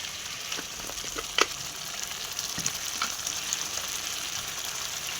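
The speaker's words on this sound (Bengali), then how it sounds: "মশলাটা ভালো করে কষে নেব। এখানে এবার পরিমাণ মতন লবণ দিয়ে দেবো।" Spice paste with salt sautéing in a pan, a steady close sizzle with a few soft scrapes of stirring, no voices.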